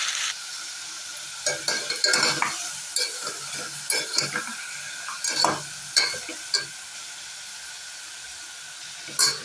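Half a kilo of chicken sautéed and stirred in a pan for a country-chicken curry, with steady close sizzling broken by repeated scraping stirs at an uneven rhythm.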